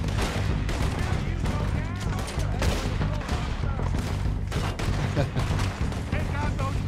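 Gunfire from a Red Dead Redemption 2 shootout, with dense, continuous shots popping over a loud, rumbling game soundscape, mixed with overlapping voices.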